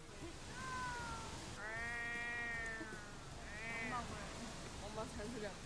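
A person imitates a cat meowing with several rising and falling voiced meows, the longest near the middle, over a noisy room background.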